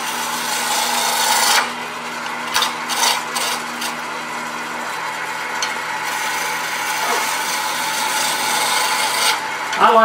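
A wood box blank being roughed on a lathe with a turning tool, loud rasping and scraping cuts that start and stop in bursts, close up with no talking.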